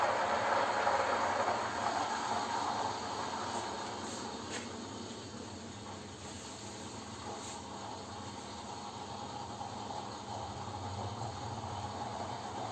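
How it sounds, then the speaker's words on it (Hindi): Dettol hand wash boils in hot oil, giving a continuous loud sizzling hiss that is strongest at the start, then settles to a steady bubbling fizz with no speech. "देखिए पूरा डेटॉल हैंड वॉश इसके अंदर कैसे उबल रहा है ऊपर तक"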